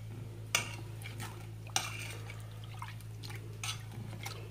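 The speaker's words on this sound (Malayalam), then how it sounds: "ഇതെല്ലാം കൂടി നമുക്ക് മിക്സ് ചെയ്യാം." A spoon clinks against a bowl while stirring banana stem squash ingredients, sharp taps at intervals over soft scraping and faint liquid sloshing, close and fairly quiet, no speech.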